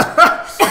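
A single short, harsh cough with two quick bursts is heard close up and fairly loud, from a man playing Marvel Ultimate Alliance 3.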